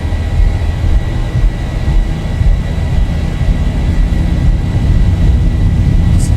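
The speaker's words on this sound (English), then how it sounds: "release the brake, and our aircraft is moving" A Ryanair airliner in a flight simulator game accelerates along the runway on its takeoff roll, a loud, steady engine roar and rumble that holds without a break throughout.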